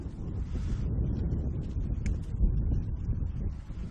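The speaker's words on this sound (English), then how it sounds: "Conditions, as I said, they're windy" Wind blows across an outdoor football pitch during a women's match, a low, continuous buffeting rumble against the microphone that swells and eases over a few seconds, with no clear voices.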